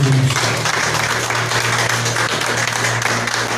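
A church congregation applauds in praise, dense and continuous clapping filling a reverberant hall at steady volume, with a low hum running underneath throughout.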